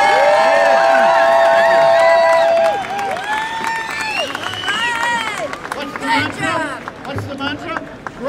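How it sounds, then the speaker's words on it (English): A large outdoor crowd at a Hash Bash cannabis rally cheers, whoops and whistles loudly, with the noise fading into scattered applause and mixed voices. "I want to hear a loud applause for the gentleman who put this together"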